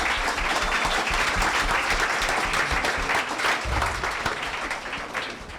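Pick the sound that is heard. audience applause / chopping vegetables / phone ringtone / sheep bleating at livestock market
audience applause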